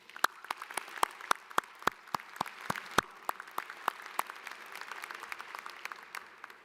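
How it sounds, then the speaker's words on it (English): Sparse, scattered clapping from a commencement audience thanking staff volunteers, a few distinct hand claps at a time with an irregular rhythm, fairly faint and distant throughout. "Please join us in a round of applause to thank all of our staff volunteers."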